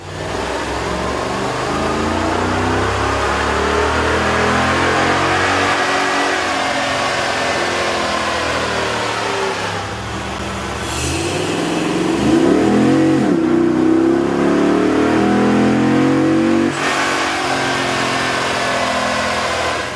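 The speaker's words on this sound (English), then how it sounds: "we ran the vehicle on the dyno to test the sound comparison versus the stock intake" A 2009–2012 Dodge Ram pickup truck engine with a K&N 77 Series intake revs up and down repeatedly on a dyno, loud and close, its deep rumble rising in pitch then dropping back to idle.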